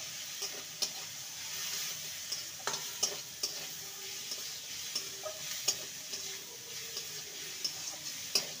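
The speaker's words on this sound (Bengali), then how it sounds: "গাজর দিয়ে ভালো করে নেড়ে নেব।" Light, repeated scraping and clinking of a spatula stirring grated carrot into poha in a pan, with faint sizzling underneath and no voices.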